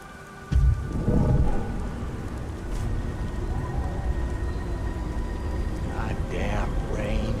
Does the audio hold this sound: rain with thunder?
yes